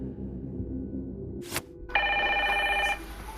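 Telephone bell ringing in an audio game for blind players, a steady electronic ring lasting about a second, loud and close, set against a low background hum after a brief sharp noise.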